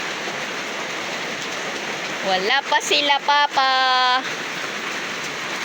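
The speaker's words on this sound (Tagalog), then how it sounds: "Pag tumigil na po yung ulan." Heavy rain pours down in a steady, dense hiss throughout, loud and close, while a voice briefly speaks over it.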